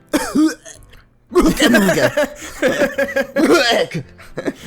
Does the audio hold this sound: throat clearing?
yes